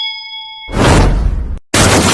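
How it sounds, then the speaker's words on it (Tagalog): A bright notification bell rings a single clear, sustained ding, then a loud whooshing burst of noise cuts in, drops out briefly and returns. "Bell."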